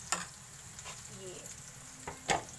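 Egg and paratha cook in oil on a pan, a quiet sizzle under sharp clicks and scrapes of a spatula, with one louder clatter near the end.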